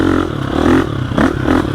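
A 2021 GasGas EX 350F dirt bike ridden in third gear, its engine droning loud and close with uneven surges and dips, the rider's mic catching rough wind-blasted rumble along with it.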